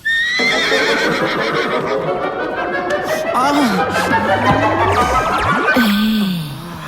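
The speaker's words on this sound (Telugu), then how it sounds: "నీ గుర్రం సౌండ్ కేక నాకు బాగా నచ్చింది" A loud horse whinnies in a long, wavering neigh while hooves clop steadily underneath, up close and vivid, ending with a snort.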